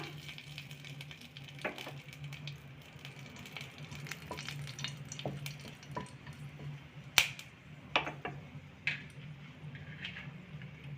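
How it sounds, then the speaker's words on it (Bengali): Bay leaf and dried chilli crackle in hot oil for chole, a quiet steady sizzle broken by sharp pops and clicks from the spices. "তেলটা গরম হয়ে গেছে এখানে আমি তেজপাতা আর শুকনো লঙ্কা দিলাম"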